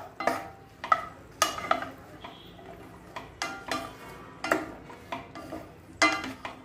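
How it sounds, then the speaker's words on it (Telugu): Okra and tomato being stirred with oil in a pan, a spoon scraping and tapping the pan in irregular bursts of clicks and scrapes over a faint sizzle, close by with no talking. "ఇలా ఆయిల్ వేసిన తర్వాత ఒక్కసారి కలుపుకుందాము"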